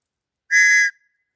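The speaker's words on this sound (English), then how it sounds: "start whistling, start blowing the whistle" A single sharp, shrill whistle blast lasting about half a second, loud and close, then silence.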